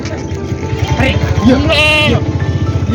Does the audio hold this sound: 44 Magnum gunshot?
no